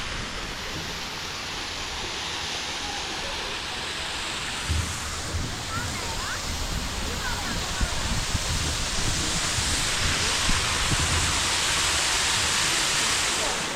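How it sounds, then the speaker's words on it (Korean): A steady, dense rush of falling water from a waterfall fills the scene, constant and enveloping, with no breaks over its whole length. "폭포 구경하기도 좋고"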